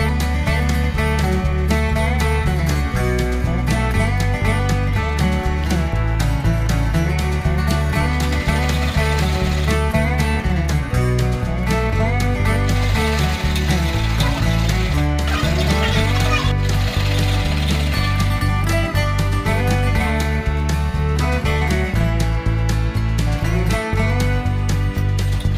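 A sewing machine steadily stitching both sides of a folded pillow cover, its rapid mechanical clatter running loud and continuous throughout.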